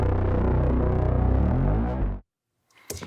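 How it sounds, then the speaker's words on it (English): A deep, buzzy synth line played an octave lower plays a steady rhythmic pattern, then cuts off abruptly into silence, followed by a faint brief noise. "So I took it and octaved this first part here so that this same synth part now sounds like this."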